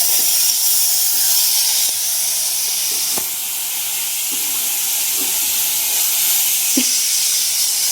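Cabbage sautéing in a pan for a quick home-style dal-cabbage dish, giving a steady bright steam-like hiss throughout with a few faint clicks of the spatula, close and fairly loud, no talking.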